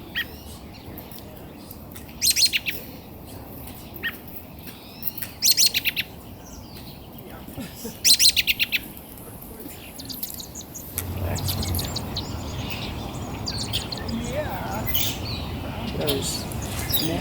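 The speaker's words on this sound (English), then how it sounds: "Those young male blackbirds." Young male blackbirds call in repeated bursts of shrill, chirping notes, loud and fairly close, with short pauses between, while steady bird chatter and a low background hum carry on underneath and grow fuller toward the end.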